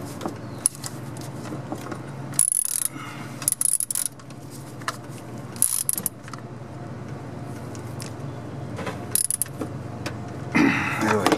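Ratchet tightening the AC compressor bolts on a 6.2/6.5L GM diesel in a squarebody K10 Suburban, heard as scattered bursts of close metallic clicking with pauses between them.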